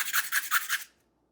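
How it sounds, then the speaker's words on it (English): Sandpaper scuffs the fins of an Estes Viking model rocket, four quick rhythmic rasping strokes up close, then silence. "So we'll have a piece of sandpaper and just kind of get them all lined up and come in here and just give it a good scuff there"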